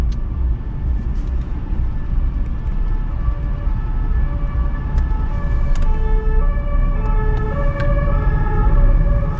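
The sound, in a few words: police siren passing in Paris street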